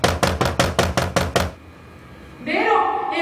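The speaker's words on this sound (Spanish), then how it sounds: "Da enérgicos golpes a la puerta que está cerrada." Forceful knocking on a closed door, about eight loud, evenly spaced blows in quick succession, then a brief pause before a voice begins speaking.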